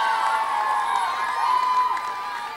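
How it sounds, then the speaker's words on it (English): A crowd at an evening illumination ceremony in Columbus applauds and cheers for a children's choir, a loud, sustained mix of clapping and whoops lasting a couple of seconds. "How about another round of applause for America's best children's choir, the Columbus Children's Choir?"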